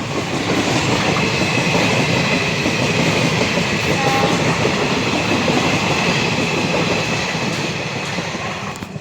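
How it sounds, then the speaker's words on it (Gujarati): A train passes on a railway track close by, near scrubby woodland, with a loud, continuous rumble and rail clatter that holds steady throughout and fades slightly at the end. "નજીકમાં જ રેલવેનો પાટો છે ટ્રેનનો અવાજ આવતો હશે તમને"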